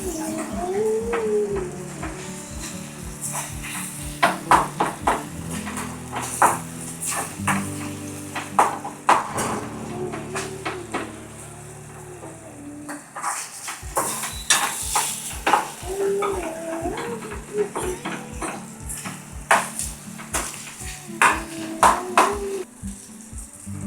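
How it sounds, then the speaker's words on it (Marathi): Prawn curry base with homemade masala stir-fried in a pan: a spoon scrapes and knocks against the metal in steady strokes over continuous sizzling, with music playing underneath throughout. "छान असं परतून घ्यायचं"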